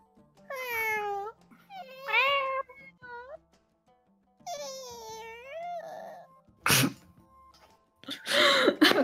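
A person's voice imitates a cat, giving several rising and falling meows with short pauses between them, followed by a couple of sharp, noisy bursts.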